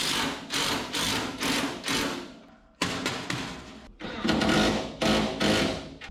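Self-tapping screws driven into a panel on a 1970 International Loadstar truck, likely with a power driver: repeated loud bursts of whirring and rattling, close by, broken by short pauses, with no talk.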